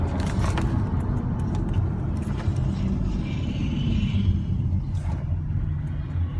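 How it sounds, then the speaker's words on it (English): A 2013 Chevrolet Camaro 2SS shifts up into third gear while driving, its engine holding a steady, loud low rumble with no clearly distinct shift point. "I tap it, it shifts into third."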